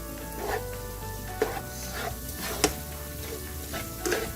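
Chopped cilantro leaves are stirred into a sizzling green chilli garlic chicken fry in a pan, with a steady low hiss and a few sharp scrapes of the spoon against the pan.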